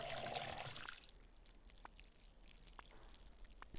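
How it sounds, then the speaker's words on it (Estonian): Water from a tap trickles and drips into a watering can in the game Schedule 1, with a brief louder pour at the start and then faint, scattered drips with no talking. "me peame natukene kraani all seda rohkem täitma"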